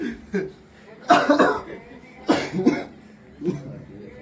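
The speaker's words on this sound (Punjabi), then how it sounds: "ਸਾਰਿਆਂ ਨੂੰ ਖਾਂਸੀ ਲੱਗੀ ਮੈਨੂੰ ਖੰਘ ਹੋਣੀ" Several harsh coughs in separate bursts, a couple of quick clusters followed by a lone cough, close by with no talking.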